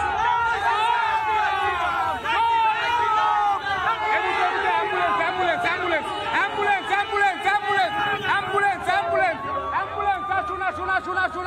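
Dense crowd noise at a Ram Navami procession in Bengal, many voices chattering and shouting close by in a constant babble with overlapping calls throughout.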